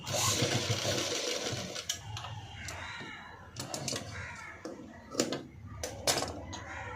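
A sewing machine stitches a blouse trim, running in short bursts with intermittent clicks and thumps, fairly close and with no talk.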